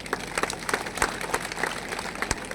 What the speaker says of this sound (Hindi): तो दोनों हाथ खड़ा करके ताली बजा के समर्थन दे देना